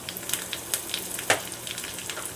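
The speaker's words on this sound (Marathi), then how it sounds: "फोडणीसाठी यात एक चमचा जिरे एक चमचा मोहरी कडीपत्ता घालायचा आहे चिरलेला" Cumin, mustard seeds and chopped curry leaves crackle in hot tempering oil, a steady close sizzle broken by scattered sharp pops, one louder burst partway through.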